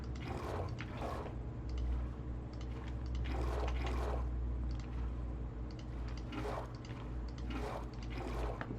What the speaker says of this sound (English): now once you've done that, you can place in your water.